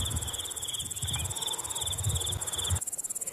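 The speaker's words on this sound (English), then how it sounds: "the cricket continues with his song. Rather, his music gets louder with time." A cricket sings indoors, a continuous high, steady chirping trill running the whole time at moderate loudness over a low background rumble.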